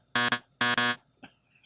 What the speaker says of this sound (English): How about the alarm?